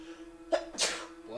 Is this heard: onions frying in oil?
no